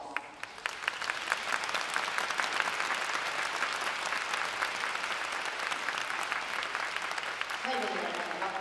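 Audience applause fills a hall at a winter marching band event in Kyoto, a steady, dense wash of clapping from a large crowd held for the whole stretch, with faint tones creeping in near the end.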